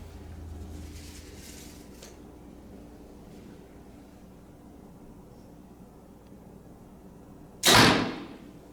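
A heavy arrow is shot from a 2022 Prime Inline compound bow: one sharp, loud snap-thump after several seconds of quiet outdoor hush.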